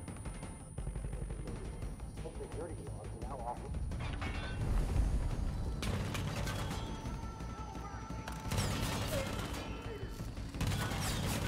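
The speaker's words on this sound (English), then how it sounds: "Someone is shooting me from behind." Gunfire in Far Cry 5 coming from behind the player, with dense bursts of rapid shots and heavy blasts over a continuous rumble of combat noise, loud and close, with a voice speaking at times.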